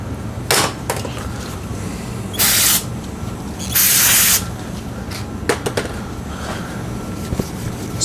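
Speed degreaser sprays onto a Trek mountain bike in a few short hissing bursts, two of them longer and louder, mixed with light clicks and handling noise close by.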